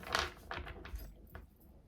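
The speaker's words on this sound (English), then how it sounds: "we're going to shuffle 3 more times" Tarot cards are shuffled by hand in short papery riffles and taps, soft and close, in a quiet room with no talk.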